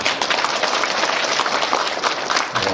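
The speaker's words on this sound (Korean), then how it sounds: "하나님 앞에 박수를 하시기 바랍니다" Congregation clapping in church on Christmas Day, a dense, loud, continuous patter of many hands filling the room from start to end.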